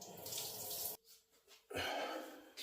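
Tap water runs over a sourdough starter jar being rinsed in a sink, a close steady hiss that cuts off briefly and then gushes again, with no talking.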